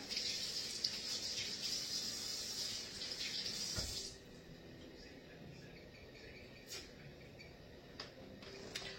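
A kitchen tap runs in a steady hiss while vine tomatoes are washed, fairly quiet and close, easing off partway with a few small clicks and knocks afterward.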